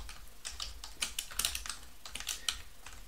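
Quiet, close keystrokes on a computer keyboard come in irregular bursts of clicks as game code is typed, with no voices.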